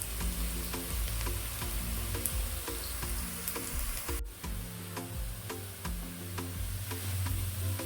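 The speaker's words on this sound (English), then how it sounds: "Yeah, our onions have started browning. I'll just let them cook." Onions fry and brown in a pan for fried rice, making a continuous moderate sizzle with faint regular ticking clicks running through it.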